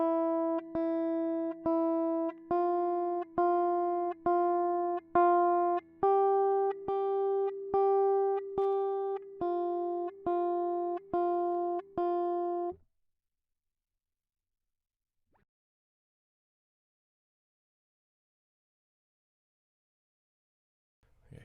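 Guitar plays a slow beginner note exercise, single picked notes in an even, unhurried rhythm, clean and close, then silence for the last several seconds.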